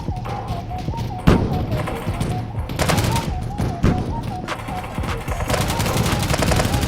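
Rapid minigun fire crackles through the online shooter Blast Buddies, dense bursts of gunshots and thumps layered with game effects, loud and continuous across the clip.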